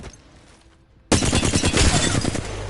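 Flatline rifle in Apex Legends firing a sustained automatic burst after about a second of quiet, loud and close with rapid, dense shots continuing to the end.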